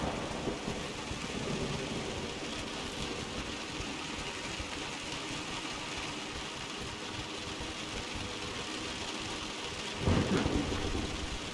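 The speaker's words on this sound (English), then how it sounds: "Hell of a storm out there." Thunderstorm with steady heavy rain in the video game Rise of the Tomb Raider, a dense continuous downpour with rolling thunder throughout and a louder, closer thunder rumble swelling near the end, no voices.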